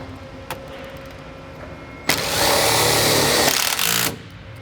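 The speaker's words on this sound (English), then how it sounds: "We will need to use a Tech screw to screw in this flange to this top panel." A power driver sinks a Tech screw into a metal flange on a top panel during a channel blender installation, a loud, close whirring burst of about two seconds that rises out of quiet background hum.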